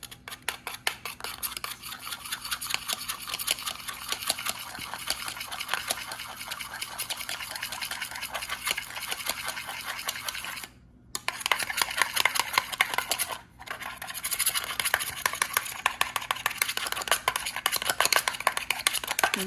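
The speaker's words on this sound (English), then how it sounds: "Have you ever beaten an egg with a knife?" An egg is beaten with a knife in a one-cup measuring cup, giving a fast, steady, rhythmic tapping and clatter that runs continuously, with two brief pauses.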